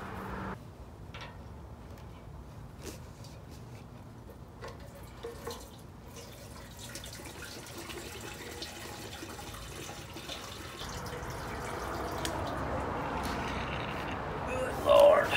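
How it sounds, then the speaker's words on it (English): Gasoline draining from the bottom of a Honda ATC 200x fuel tank, a faint steady trickle of liquid that grows stronger toward the end, with a light clunk at the close. "Drain the bottom out."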